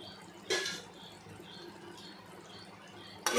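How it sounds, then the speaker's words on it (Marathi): Tamarind water poured into a Bombay duck fish curry (bombil kalvan), heard as a short splashy pour near the start and another brief splash at the very end over quiet background. "याच्यामध्ये आपण चिंचेचं पाणी टाकूया."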